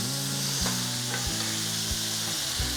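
Garlic and tomato sizzling and frying in a pan while being stirred, a close, steady hiss broken by a few soft scraping knocks, with no talking.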